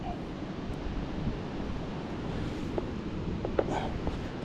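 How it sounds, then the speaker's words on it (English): Wind gusts across an open waterside spot during autumn or winter roach fishing, a steady, fairly quiet broadband rush that swells slightly at times, with no voices. "the wind seems to be predominantly blowing from behind me, but at times it's gusting in like all directions at once"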